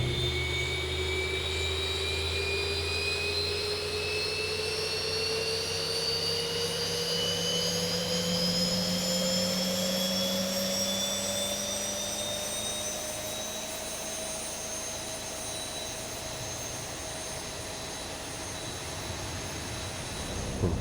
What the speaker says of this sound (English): so we're going to start engines now, so we'll go with engine number 2